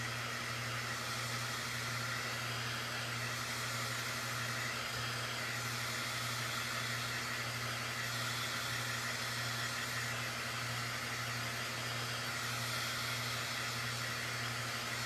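A hair dryer blows steadily on a homemade fall craft sign, a constant close, even whooshing hum with a low tonal drone that runs unbroken throughout.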